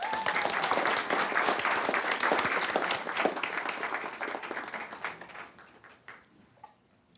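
Sustained applause from a school board meeting audience honoring a student representative, steady dense clapping that gradually thins and fades out over the final seconds.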